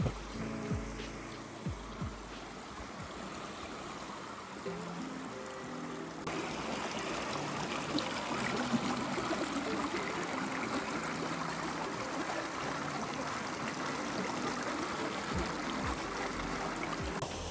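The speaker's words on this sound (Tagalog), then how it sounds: "May mga magagandang sapa." A mountain stream flows in the forest with a steady, close rushing and trickling wash that grows slightly fuller partway through and keeps going without a break.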